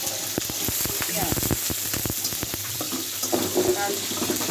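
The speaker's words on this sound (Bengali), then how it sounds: "কড়াইয়ের মধ্যে তেল দিয়ে দিলাম, দিয়ে দিচ্ছি পেঁয়াজ" Onions frying in oil in a wok sizzle and crackle, with irregular sharp pops and spits over a steady frying hiss, close and moderately loud.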